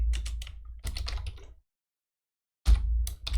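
Typing on a computer keyboard: two quick bursts of close key clicks, then a short silence, then another burst of keystrokes, with no talk.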